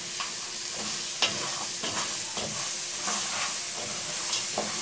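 One large chopped onion frying in a pan for pumpkin soup, a continuous close sizzle broken by the light scrape and tap of stirring.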